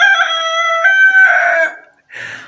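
A rooster crows in the morning: one long, loud, drawn-out cock-a-doodle-doo close by, then a short pause and a brief second call.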